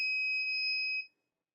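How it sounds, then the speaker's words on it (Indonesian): Project buzzer of a student IoT build signalling a danger status: a steady electronic tone held for about a second, then cutting off into silence. "buzzer akan menyala untuk ketika ada kondisi yang berbahaya"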